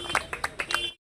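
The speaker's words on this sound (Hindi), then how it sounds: "जोरदार तालियों के साथ" A handful of sharp claps at a bar association election ceremony in Agra, fairly close and irregular, about six distinct hits over under a second before cutting to silence.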